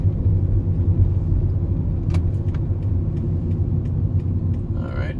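A car drives across the Portmore leg of a highway overpass bridge, heard from inside as a steady, loud low road rumble with faint rattles and a short scrape near the end.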